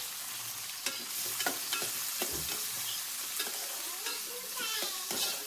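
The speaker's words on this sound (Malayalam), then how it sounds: "ഇഞ്ചി വെളുത്തുള്ളിയിലേക്ക് നമ്മള് തക്കാളിയും കറിവേപ്പിലയും കൂടെ ചേർത്ത് കൊടുക്കാണ്" Tomatoes and curry leaves hitting hot oil with ginger and garlic for a mackerel curry, a bright hissing sizzle punctuated by spoon scrapes and taps, close up with no speech.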